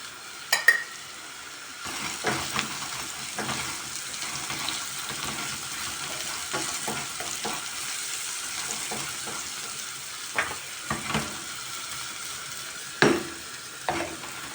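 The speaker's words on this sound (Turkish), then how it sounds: "Pırasalarım kavruldu." Sliced leeks sauté in a pan with a continuous low sizzle, broken by scattered scraping and stirring clicks and a few louder knocks near the start and end.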